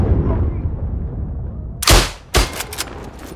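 Gunfire in the Isonzo video game, set in mountain warfare: two sharp, loud, close shots about half a second apart with a brief echoing tail, following a low rumbling battlefield ambience.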